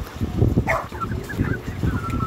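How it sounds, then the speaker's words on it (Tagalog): Backyard chickens cluck in a garden. A few short, nasal clucks come over a low outdoor rumble, close by and moderately loud. "Ayan, mga makukulit na manok namin."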